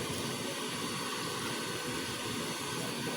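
Air blowers run inside a chamber, giving a loud, constant roaring whoosh with no breaks.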